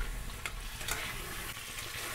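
Pointed gourd and spices sizzling in a pan with a little water added, a dense continuous hiss and bubbling with faint stirring clicks.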